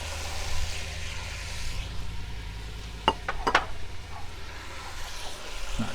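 Potatoes tipped into a hot pot for beef stew, a steady low sizzle with a couple of sharp clinks of utensil against metal partway through, close and without talk.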